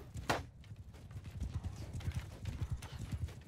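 Rhythmic hoofbeats of a horse galloping in a video game battle, a steady drumming of low thuds that keeps going throughout, with a brief sharp burst near the start.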